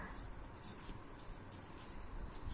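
A pen or pencil writes a word by hand, with soft repeated scratching strokes, quiet and close, with no one speaking.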